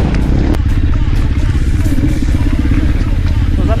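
A quad bike or motorcycle engine runs loud and continuous at a quad party event in Chojnów, with a steady low rumble and some clatter, and people talk in the background.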